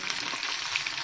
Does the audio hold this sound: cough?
no